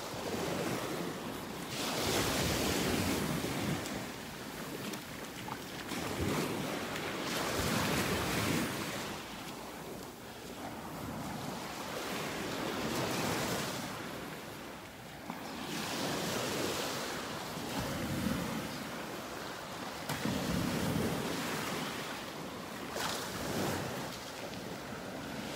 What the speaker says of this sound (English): watching the waves here come in under the old trees